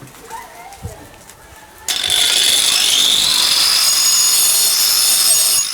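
After a quiet moment, a power tool starts up with a sudden high whine and keeps grinding steadily as it cuts wood for garden furniture, loud and close.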